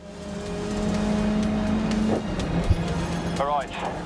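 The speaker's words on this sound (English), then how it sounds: "I think I'm going to carry on driving inside the cockpit for the rest of the race." A race car engine droning steadily in cockpit view during a lap of GRID Legends, a loud sustained motor note with shifting pitch and a brief bump, with a voice speaking over it.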